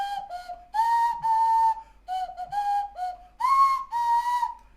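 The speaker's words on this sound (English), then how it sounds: "This is the nose flute, which you play by blowing into it through your nose" A nose flute plays a simple tune of breathy, whistle-like notes in short phrases with brief pauses between them, close and clear.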